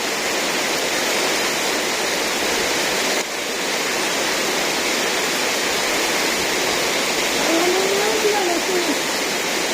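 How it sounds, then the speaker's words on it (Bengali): Heavy rain pours steadily during a storm in a village, a dense, loud hiss that continues throughout, with a brief dip and a faint voice-like tone near the end. "কেমন বৃষ্টি"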